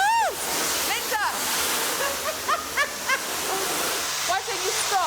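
Water sprays hard and constantly during a cleaning job, a dense rushing hiss up close, with excited voices shouting over it throughout.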